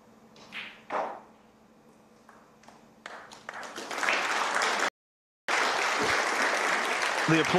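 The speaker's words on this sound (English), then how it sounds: "the applause from across the arena." Arena crowd applause breaks out at a snooker match during the Tour Championship, starting with a few scattered claps and swelling into sustained, loud clapping across the venue, cut by a brief dropout.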